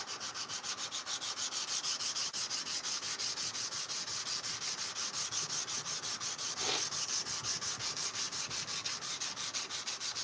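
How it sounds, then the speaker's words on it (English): Sandpaper rubs by hand along a forged blade of wrought iron and high carbon steel in quick, even back-and-forth strokes, a steady close scratching that continues without pause and sounds alone. "once you stop feeling that sandpaper working, switch to a new spot"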